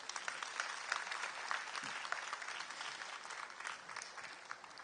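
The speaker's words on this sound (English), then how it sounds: "I think that deserved another round of applause." A graduation ceremony audience gives a round of applause, a sustained, even patter of many hands heard at moderate distance without any talking.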